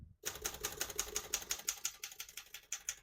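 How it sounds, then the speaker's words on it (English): Keys on a 1950 Royal KMG vintage desktop typewriter strike in a quick, steady run of crisp mechanical clacks, close up and alone with no talking. "As you can see, all the keys type nice and none of them skip or stick."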